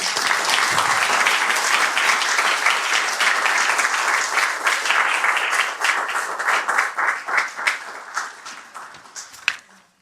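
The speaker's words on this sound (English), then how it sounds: "give yourself an applause for this" An audience applauds at a state leaders' event announcing student grant funding, with steady dense clapping that thins out into scattered individual claps before fading near the end.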